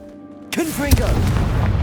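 Blasting spell explosion in Hogwarts Legacy, a sudden loud boom after a moment of quiet, followed by a rumbling burst and debris; a voice is heard with it.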